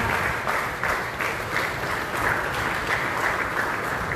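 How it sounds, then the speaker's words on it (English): Audience applause at a valedictory function of an art workshop, dense continuous clapping from a crowd held at an even level throughout. "Please give him a huge round of applause."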